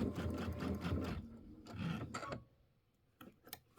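Sewing machine running zigzag stitches on a quilt: two close bursts of rapid mechanical stitching, each about a second long, separated by a pause, then a quiet stretch with a few light clicks and handling noises.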